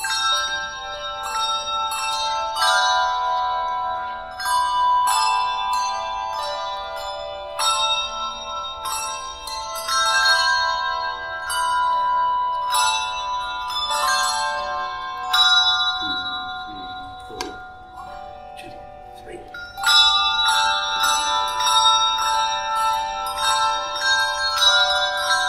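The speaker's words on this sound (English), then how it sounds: "After the tower bells" Church tower bells ring in a long, overlapping peal, clear and resonant, with a short lull before another burst of chimes, rung at Burnham for the King.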